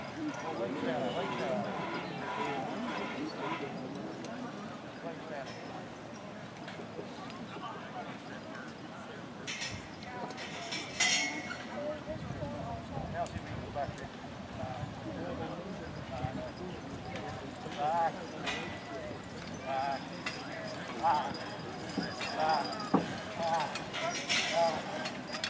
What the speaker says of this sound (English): These are all Belgian horses.